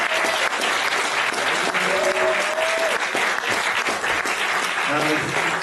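A small audience at a live original-music night gives the musicians another round of applause, loud, close and sustained clapping with some cheers and voices mixed in throughout.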